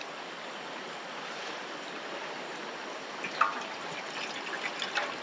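Water pours steadily into a pot on a camp stove outdoors, a continuous close trickling hiss with a few brighter splashes near the end, as wind blows.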